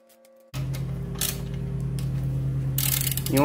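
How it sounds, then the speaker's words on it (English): A ratchet tightens the bolts on a generator's air filter housing, with quick repeated clicking strokes over a steady, loud running hum. The sound starts abruptly after a short quiet lead-in. "You want to tighten these down slowly back and forth."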